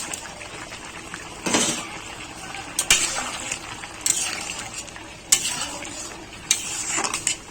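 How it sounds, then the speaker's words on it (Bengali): Rohu fish simmering in a boiling sour curry with raw mango and pumpkin, a soft bubbling hiss punctuated by several sharp scraping stirs and utensil knocks against the pot, close-up with little talk. "ফুটে গেছে ঝোল ফুটে গেছে এবার মাছগুলো দিয়ে দেব মাছগুলো দিয়ে দিলাম"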